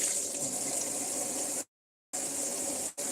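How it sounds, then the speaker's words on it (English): Tap water runs steadily into a kitchen pot, a continuous close rushing gush that cuts off abruptly for about half a second, resumes, then briefly dips again near the end. "I'm supposed to be doing put the water in the pot and put the top on it."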